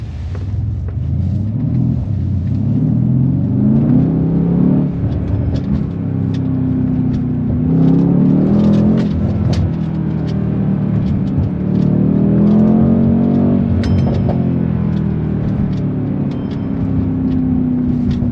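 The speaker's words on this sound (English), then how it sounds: "thought I'd show you guys a different type of pull with the car." A 2019 Mercedes-Benz C63s pulls hard, its engine roaring loud and close as revs climb in repeated surges through gear changes, a deep continuous rumble without talk.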